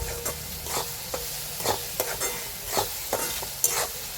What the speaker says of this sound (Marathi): आता मिक्स करून भाजून घेऊया.